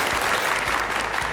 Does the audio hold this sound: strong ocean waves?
no